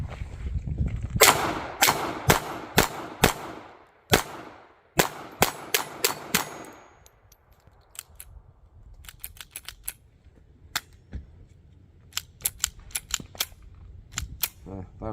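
A Ruger LCP MAX pistol fires a long string of sharp, loud shots, a fast burst of about a dozen followed by more scattered single shots and short groups, outdoors and close.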